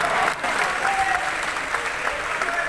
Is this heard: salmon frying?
no